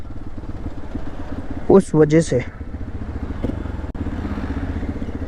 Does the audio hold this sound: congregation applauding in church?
no